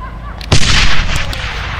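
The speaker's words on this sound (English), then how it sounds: "Let's start off with the machine guns." A loud, close burst of gunfire from a machine gun at an outdoor field test: one heavy boom followed by a sustained rumbling roar lasting about half a second, then fading noise with no talking.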